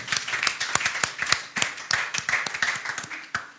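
A church congregation claps in a brief burst of applause, with many quick, uneven hand claps, moderately loud and close.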